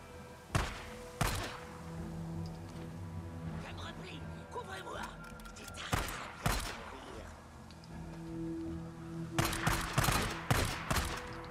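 Shotgun gunfire in the video game Days Gone rings out as sharp, loud blasts spaced across the scene, some in quick clusters, over constant game ambience and French-speaking voices.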